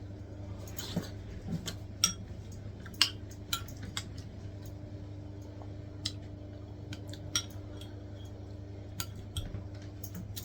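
Metal spoon clinking against a bowl of very hot chilli con carne, a scatter of sharp light taps and scrapes spaced irregularly over a steady low background hum, with no talking.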